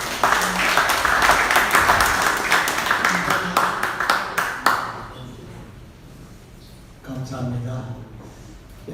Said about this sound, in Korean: 우리 박동호 목사님 나오실 때 큰 박수로 환영해 주시기 바랍니다